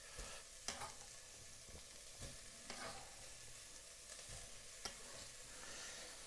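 Carrots fry in oil in a pot on a hob while being stirred, giving a soft, steady sizzle broken by repeated scraping clinks of the stirring utensil, close and quiet.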